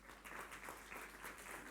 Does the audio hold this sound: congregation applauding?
yes